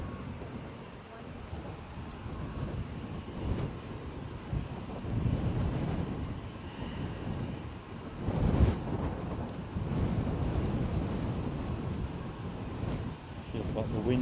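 Gusty wind at Edinburgh airport buffets the microphone in a continuous low roar, surging louder around the middle, with a person talking underneath.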